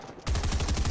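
A shotgun in the Fortnite video game fires as a sudden loud blast after a brief quiet moment, with a rapid rattling burst of repeated reports.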